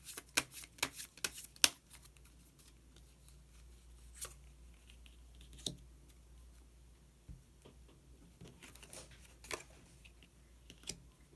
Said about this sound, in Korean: 그러면 한 장의 카드를 더 뽑고 이야기 계속 나오도록 하겠습니다.